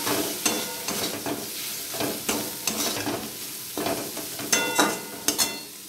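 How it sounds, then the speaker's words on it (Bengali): Coriander, whole cumin, turmeric, Kashmiri chilli powder and salt fried with chicken for chana dal, stirred in a pan: repeated scraping strokes over a steady close sizzle, no voices. "আর একটু ভালোভাবে কষিয়ে নেব।"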